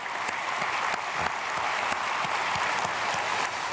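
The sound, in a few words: applause in church service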